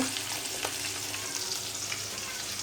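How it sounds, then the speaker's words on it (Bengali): Fish frying in a pan gives a steady, close crackling sizzle for the whole short stretch, alone and with no talk. "আর এই যে মাছটা আমার ভাজা হচ্ছে।"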